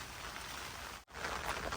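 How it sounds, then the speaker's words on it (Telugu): Sudden heavy early-morning rain pours down on a farm field, a dense continuous hiss close by, with one brief dropout in the middle. "ఇది వర్షం చూడండి సడన్గా స్టార్ట్ అయింది"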